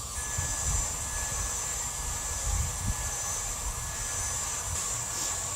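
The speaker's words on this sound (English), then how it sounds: "This time I cranked my heat gun up to about" A heat gun set to about 410 degrees blows hot air onto a Kydex sheet, making a constant, fairly quiet rushing roar with a hissy edge that never changes.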